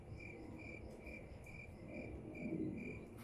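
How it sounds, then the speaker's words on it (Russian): A cricket chirps steadily in repeated regular pulses, a quiet insect trill carrying on under low background ambience with no talking. "Просто этот сверчок на фоне очень в тему был."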